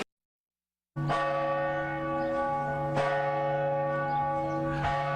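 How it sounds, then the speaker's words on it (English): After a second of silence, a large cathedral bell in Savannah tolls loudly and resonantly, struck three times with long ringing hum between strikes. "The bells here tolling"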